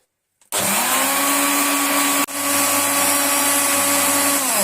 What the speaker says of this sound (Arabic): بعد كده هنضربهم في الخلاط